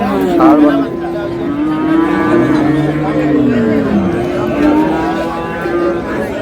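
Cattle lowing at a crowded livestock market in Dinajpur, where a bull calf is being sold; repeated deep moos rise and fall close by over steady crowd noise and talk.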